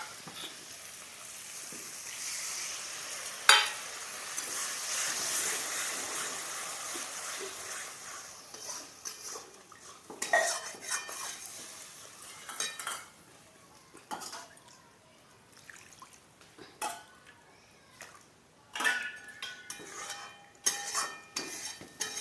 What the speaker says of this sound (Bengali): মশলার বাটিটা ধুয়ে জলটা দিয়ে দেব।